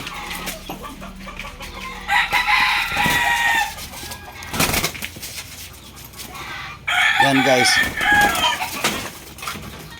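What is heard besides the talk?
roosters crowing and clucking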